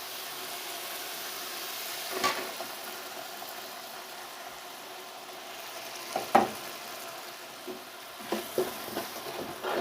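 A paste of ground tomatoes and green chilies sizzles steadily in a pot, a soft continuous frying hiss with occasional stirring clatters and scrapes.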